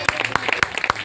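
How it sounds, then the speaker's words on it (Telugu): Audience clapping at a church gathering, a brief burst of sharp, uneven hand claps close by, with voices mixed in. "చప్పట్లు పెడదామండి"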